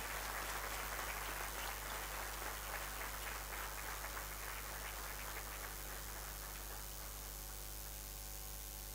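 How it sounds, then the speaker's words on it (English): Audience applause at a convocation ceremony of an engineering institute, a steady broad wash of clapping that stays loud and even throughout, with no talk over it. "Ladies and gentlemen, a huge round of applause."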